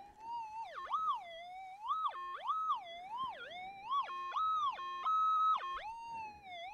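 A metal detector's loud warbling target tone sweeping up and down in pitch, with steady held notes between the sweeps, continuous and close, over an iron-heavy pile in an old hydraulic mining pit.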